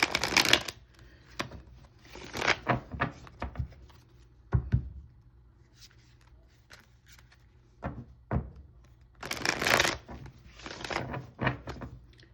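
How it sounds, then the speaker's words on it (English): Tarot cards are shuffled in several crisp, riffling bursts separated by pauses, close up and fairly loud, with no speech. "I'm going to go ahead and shuffle a few times here."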